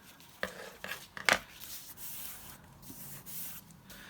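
A paper fold line creased and tapered on a large paper packet pocket: a few sharp papery scrapes and rubs close by, with a brief louder swipe, then soft rustling, no talking.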